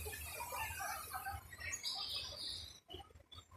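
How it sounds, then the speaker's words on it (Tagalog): Birds calling from the trees in Hong Kong Park, faint scattered chirps and squeaks at a distance over a quiet outdoor background, with a brief pause near the end. "Yan lahat ng mga ibon. Ayan o, ang ibon sa taas o."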